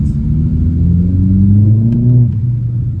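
A tuned Seat Leon 1.8T 4x4 pulls hard under acceleration, its engine note loud and close, rising steadily in pitch before easing off near the end with no talk over it.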